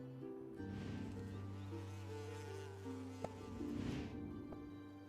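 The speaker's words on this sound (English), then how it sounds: "You just see a bee feeding on nectar." A steady bee buzz drones throughout as it feeds on flower nectar, alongside a low sustained hum, with a brief click near the middle; no voices.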